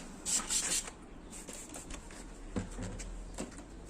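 Quiet rhythmic rubbing and rasping strokes of 1500-grit sandpaper against a yellowed car headlight, close up and continuous.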